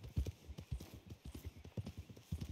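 Horse hooves clip-clopping in the video game Red Dead Online, a steady rhythmic run of hoof strikes close by, fairly loud and continuing throughout with no talk over it.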